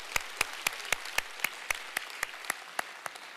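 Slow, evenly spaced claps, about a dozen sharp beats in steady rhythm, applauding a church choir, fairly close and clear with no talk over them.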